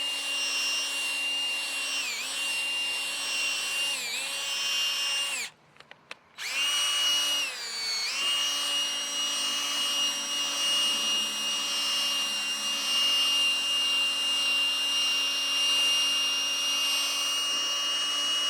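A cordless drill spins a sanding pad over a Chevy Impala headlight lens with a 3M polishing kit, giving a steady high whine with slight pitch dips, briefly cutting out near the middle before resuming continuously.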